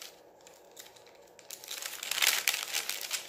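Crinkly vintage-style junk journal paper being handled and rustled, starting as soft intermittent crinkles and building into louder, dense crumpling close to the microphone, with no talking.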